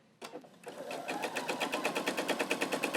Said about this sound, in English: I'm going to do a little back stitch where it comes onto the tree trunk and where it comes off